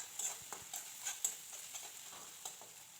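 Masala of onion, ginger and garlic paste fries in a pan and gets stirred for egg biryani, a steady sizzle broken by irregular scraping clicks of the spoon, close and moderately quiet.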